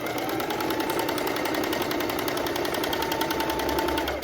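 A domestic sewing machine stitches knit fabric in one continuous, fast, even run of needle strokes, loud and close without pause.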